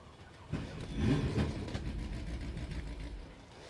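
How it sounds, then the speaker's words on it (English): A 2002 vintage Kawasaki two-stroke motorcycle engine at a dry lake race, revving up sharply with a rising buzzy whine, then holding a rough, raspy drone that slowly fades, with no voices. "It's a 2002 vintage Kawasaki. Two-stroke, if that noise didn't give it away."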